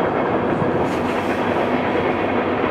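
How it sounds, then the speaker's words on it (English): A train rolls past at length, a loud continuous rumble of rail cars with faint clickety-clack under it, steady and close, and no one speaks. "Train."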